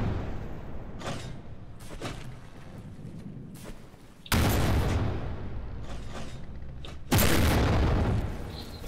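Shots explode against a ship in a Minecraft design, with scattered muffled booms followed by two loud, sustained blasts that roar on for a couple of seconds each.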